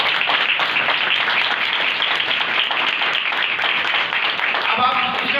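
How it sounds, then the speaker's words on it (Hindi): A church congregation claps together during a pastor's sermon, producing a steady, dense patter of many hands that stays loud and close. A voice briefly comes in near the end. "तालियां बजाएं जिसने तफ्तीश की।"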